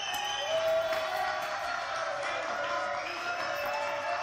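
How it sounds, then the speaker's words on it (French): A television studio audience on a French comedy show claps and cheers in a steady, dense burst of applause with scattered whoops, filling the whole stretch. "Applaudissements."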